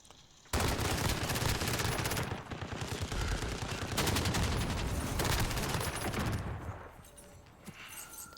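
Rapid rifle gunfire in the survival game Rust, loud sustained bursts of automatic shots with brief pauses, fading out near the end.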